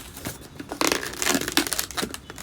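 A long modelling balloon is folded and twisted into a bow shape, producing close, continuous rubbery squeaks and crinkly rubbing that grow busier and louder partway through.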